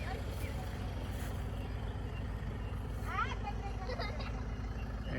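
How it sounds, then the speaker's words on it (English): A 4x4 vehicle creeping slowly down a heavy, muddy track in Swaziland, a faint low engine drone with a quiet rhythmic chug throughout and brief higher squeals near the end. "there's the last vehicle coming down. Very slowly, safely"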